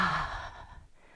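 A forceful, breathy exhale during a yoga lion's breath on hands and knees, loudest at the start and trailing off into quiet within about a second, with no talking.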